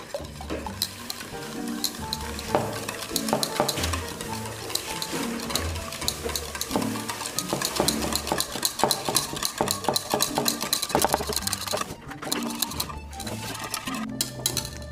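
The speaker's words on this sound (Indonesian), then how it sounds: "Kita kacau sampai dia berbuih." Chocolate lava cake batter is stirred briskly until frothy, a steady rapid scraping and whisking clatter in a bowl that continues for the full stretch, close and fairly loud, with no voices.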